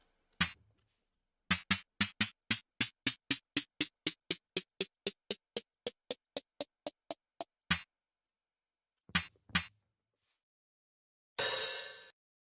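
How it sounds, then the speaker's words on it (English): Minecraft note block snare drum on sand: a quick run of about twenty crisp, dry snare clicks in steady rhythm, then two isolated hits and a final noisy burst, clean and alone. "we start drumming with the snare drum using gravity blocks like sands,"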